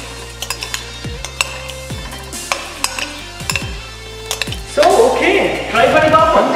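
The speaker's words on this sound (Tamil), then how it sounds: "இது எல்லாத்தையும் ஒன்றா போட்டு கலக்கணும்." Pineapple salad ingredients with onion, pepper, salt and olive oil being mixed in a bowl, giving repeated clinks and taps of a utensil against the dish, then a denser scraping and stirring toward the end.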